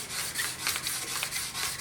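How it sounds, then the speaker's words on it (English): Sandpaper rubs back and forth by hand along a knife blade, a steady close hiss with regular stroke pulses and no voices. "Love hand sanding so much."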